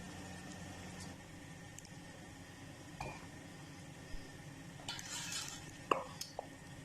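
Serving dhaba-style chana daal fry into a dish: quiet scraping and clinking of a spoon against a pot and plate, with a few sharp metallic taps near the end and no talk.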